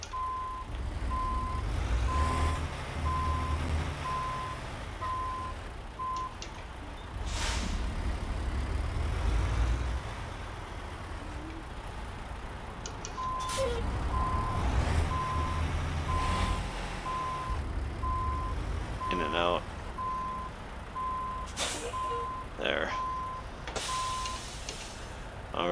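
Truck reversing beeps in American Truck Simulator as a log-harvester rig backs into a parking spot, steady repeating tones over a low idling engine rumble, with an air-brake hiss and a brief squeal near the end.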